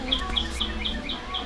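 Birds chirp outside a house in the Philippines, a steady series of short, repeated tweets over a constant background hum, moderately close and clear.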